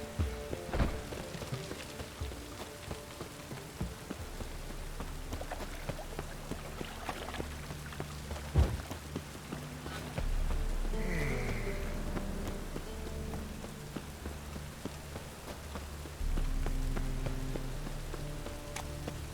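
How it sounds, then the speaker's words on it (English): Steady rain falls across an open game world in The Witcher 3, a constant hiss with occasional low rumbling swells and faint background ambience, no speech. "It's raining again."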